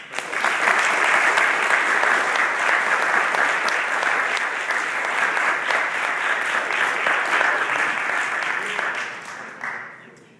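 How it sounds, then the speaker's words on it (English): An audience at a court of honor claps for a state senator, strong steady applause from many people that tapers off near the end. "let's give him a round of applause"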